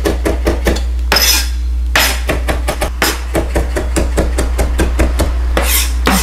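A knife finely chops cilantro with rapid, steady strokes close by, each sharp tap landing loud and even over a constant low hum.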